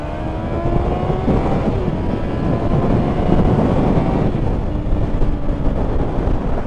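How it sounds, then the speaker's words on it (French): A Honda CB650R four-cylinder motorcycle accelerates hard in second gear, a loud, continuous rising engine roar with rising harmonic tones and steady wind rush, close and without talk. "je vais quand même nous faire une petite accélération sympathique en 2"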